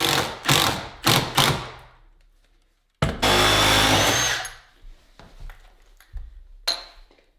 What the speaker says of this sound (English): I've decided to screw it from the front first.